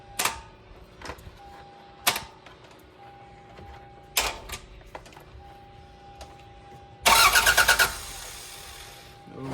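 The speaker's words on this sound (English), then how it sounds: "She's cranking." A car engine cranking with a hot-wired stock fuel pump, with several short separate bursts of noise and then a loud, rapid, rhythmic cranking churn near the end.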